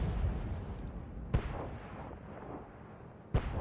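A Grille self-propelled artillery gun fires in World of Tanks, giving two sharp, loud booms about two seconds apart over a steady low rumble of battle ambience.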